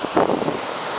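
Waves crash against rocks on a stormy shore, a brief rough surge of surf mixed with gusty wind buffeting the microphone.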